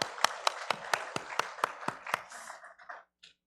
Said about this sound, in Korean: 영광의 박수 함께 올리겠습니다.